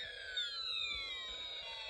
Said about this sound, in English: When I turn on the slide switch, you will hear a combination of fire engine, police car, and space war sounds.